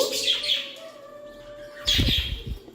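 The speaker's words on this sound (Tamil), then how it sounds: "அது சவுண்டு கொடுக்குறான் பார்த்தியா நல்லா அழகாக சவுண்டு கொடுப்பான் சித்து" A pet parrot gives two short, bright calls, one at the start and one near the end, close by and moderately loud, with a quiet background between them.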